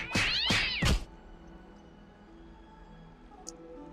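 A cat in the Honkai: Star Rail game meows three times in quick succession, loud and close, followed by quiet background ambience with a faint chime near the end.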